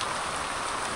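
Steady outdoor rain falls heavily, a dense continuous hiss without pauses or voices.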